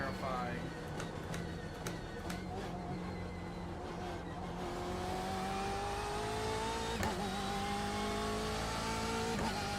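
A Porsche race car in iRacing runs flat out on the Nürburgring, its engine droning and climbing steadily in pitch through the gears, loud and close, while a voice talks intermittently.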